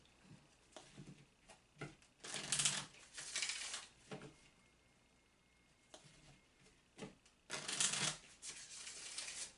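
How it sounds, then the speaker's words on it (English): A deck of Kipper oracle cards being shuffled by hand in several bursts of riffling and sliding, close and crisp, separated by short quiet pauses, with no talking. "I love how it shuffles"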